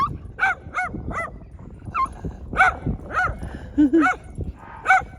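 A dog named Freya barks in short, sharp bursts, about nine in all, outdoors in fields in the Cotswolds, with a couple of lower whimpering yips between the barks.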